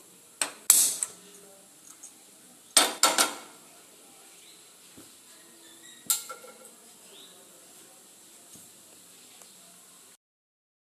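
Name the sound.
frying pan placed on a gas stove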